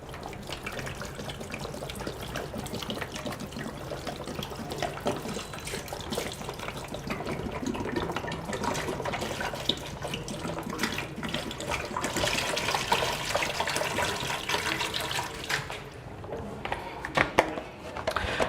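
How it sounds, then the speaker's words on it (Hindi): Two litres of water pouring steadily into the jar of a Kangen water machine during deep cleaning, a continuous close splashing and trickling wash that runs without break throughout. "2 लीटर पानी मैंने इसके अंदर डाला है"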